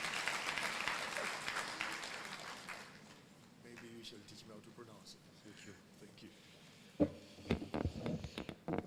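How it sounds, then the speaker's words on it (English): A crowd at a renewable energy conference applauds loudly at first, the clapping fading out, followed by a single voice speaking over a reverberant hall. "Let's give him a round of applause as he comes."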